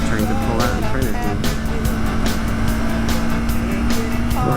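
Motorcycle engine revving on a ride along a waterfront road, a loud close steady drone with rising and falling pitch through downshifts, mixed with wind rush, and a rider's voice talking over it.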